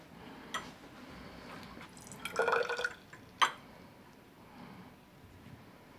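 Sodium thiosulfate solution poured into a container during a school chemistry demonstration: a brief quiet splash and trickle of liquid with a few faint drips around it, set against low room noise and no talk.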